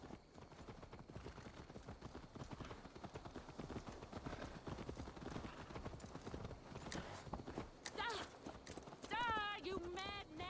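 Horse hooves clip-clop steadily in Assassin's Creed Valhalla, a continuous rhythmic trot heard under ongoing game dialogue and music, with a brief whinny-like flourish near the end.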